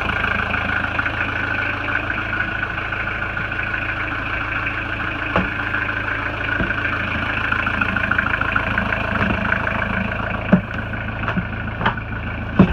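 An engine idles steadily at close range, a constant low mechanical hum with a few sharp clicks and knocks near the end.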